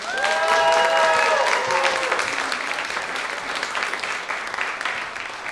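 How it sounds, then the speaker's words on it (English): Loud, sustained applause from a large audience fills the clip, steady clapping with a few faint whistles early on, gradually easing slightly toward the end. "Make it loud for William Krolowitz."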